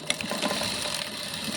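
A sewing machine stitches along thread and double-folded fabric, a steady busy mechanical whir with faint rapid clicking, close and fairly quiet, with no talk.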